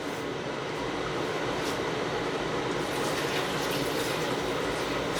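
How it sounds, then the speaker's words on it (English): Water drains off a pan of oven-baked BBQ ribs. A steady, loud rushing pour runs for several seconds, close by, with no pauses. "I'm gonna drain a little bit more of this water off."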